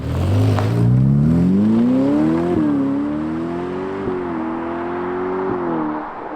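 A Ferrari F8 Tributo V8 engine revs up loudly and holds a rising, throaty drone, with a couple of brief gear-change dips before settling into a steady roar.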